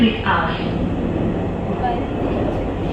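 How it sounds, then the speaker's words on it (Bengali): A Dhaka metro train bound for Uttara North rumbles into the station loudly with a dense low roar and rushing air, voices faintly audible beneath the noise. "প্রায় ১০ মিনিট পরে ট্রেন আসলো"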